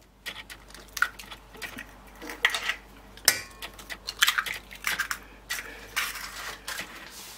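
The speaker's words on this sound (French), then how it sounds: "je mélange un petit coup pour bien casser le blanc" Quick, irregular scraping and clinking of a whisk beating eggs and sugar in a metal saucepan, close and fairly quiet, in uneven bursts.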